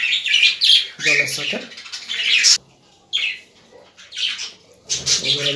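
Pet birds chirp and tweet in short bursts while a person talks over them, the calls bright and fairly close, with a brief lull in the middle.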